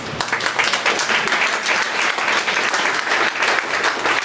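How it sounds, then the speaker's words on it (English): An audience at a talk event bursts into steady, dense applause, many hands clapping together at moderate distance for a few seconds. "That's the second biggest applause I had in my life."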